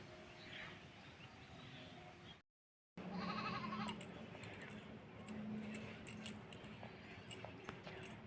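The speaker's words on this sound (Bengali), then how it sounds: "এই যে ধান ক্ষেতের মধ্যে আবার ছাগল পড়েছে" A goat bleats amid a rice paddy, its calls rising over steady outdoor background noise after a brief dropout, with faint voices mixed in.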